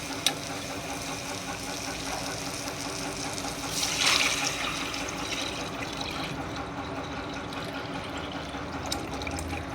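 Water pouring into a cooking pot for rice and lentils, a steady rushing splash that runs for several seconds and swells briefly partway through.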